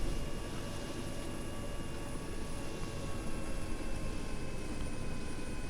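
A Russian Mi-8 Hip helicopter in flight in Arma 3 over the Chernarus map: a loud, constant rotor and turbine roar with a steady whine, unbroken and close.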